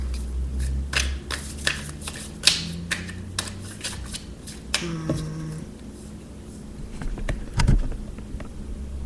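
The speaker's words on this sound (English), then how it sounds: "I'm going to shuffle a little bit more." Tarot cards are shuffled by hand in a quiet room, a run of crisp riffling snaps and soft papery slides at close range, with no talking.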